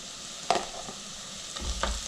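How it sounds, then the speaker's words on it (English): Onion with ginger garlic paste sautéing in a pan gives a soft, brief sizzle with a couple of quick stirring scrapes, close but quiet. "just give a quick saute to it"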